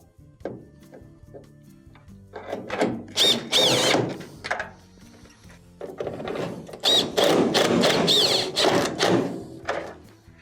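Power drill driving 2 1/4-inch screws back into a GE dryer during a main control repair, several bursts of whirring with pauses and handling clicks between, close and fairly loud.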